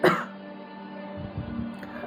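One sharp cough at the start, then quiet room tone with a faint steady electric fan hum and a few low rustles.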